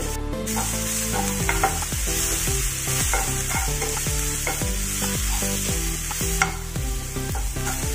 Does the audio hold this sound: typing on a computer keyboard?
no